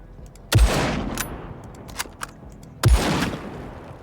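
Two loud, close gunshot blasts about two seconds apart in the tactical video game Menace, each with a short ringing tail, plus a few faint distant shots between them and no talk.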